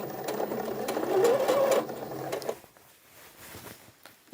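A sewing machine runs a back stitch on an A-line skirt, whirring steadily and close for about two and a half seconds with a slight rising pitch, then stopping into quieter handling noises.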